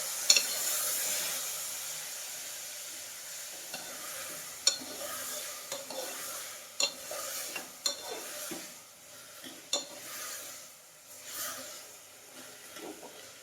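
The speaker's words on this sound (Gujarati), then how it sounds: "આ બધું આપણું સમારેલું શાકભાજી છે તેને આપણે મિક્સ કરી લઈશું" Chopped valor beans and eggplant being stirred into hot oil seasoned with asafoetida, a soft, steady sizzle broken by irregular spoon scrapes and clinks against the pan, fairly quiet and close with no voices.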